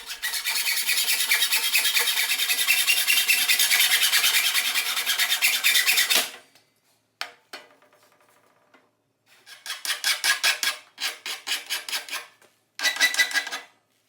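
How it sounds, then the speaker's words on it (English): Metal strut channel being cut to truck-bed width for a pickup bike rack rail, a loud harsh grinding-cut burst lasting about six seconds, then short rasping bursts after a pause, with no talk. "The first step is to cut the strut channel to the width of the bed."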